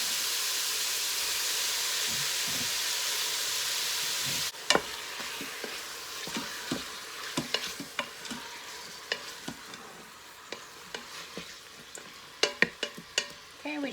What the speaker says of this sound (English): Okay, we just want to get a nice sear on this.